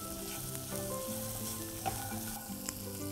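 Chopped onions and green chilies saute in a pan for mutter paneer, giving a soft, even sizzle with light stirring sounds and an occasional small tap, fairly quiet and close, without speech.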